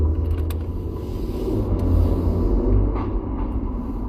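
Ferrari 430 engine running, a deep, loud low rumble that swells slightly midway and holds steady, heard close with no voices over it.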